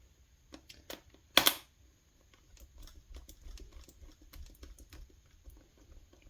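Small screw being driven into a Lenovo ThinkPad P16 Gen2 laptop during a RAM and SSD upgrade, faint close scratchy ticks and clicks, one sharp louder knock, then a soft rapid run of light rasping turns.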